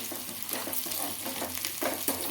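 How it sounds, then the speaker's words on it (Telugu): Oil sizzling as a tempering (popu) fries in a pan for katte pongal, with a steady hiss and a few stirring scrapes, fairly close and with no voices. "ఫ్రై కావాలి మనకు తాలింపు అనేది బాగా రెడీ అయితే దాన్ని పొంగల్లోకి వేసుకోవాలి"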